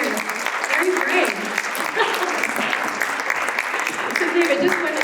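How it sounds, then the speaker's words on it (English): An audience claps warmly and continuously as a man named David comes up to the stage, a dense steady applause held at even loudness from start to finish. "let's have a happy clap for David coming up here"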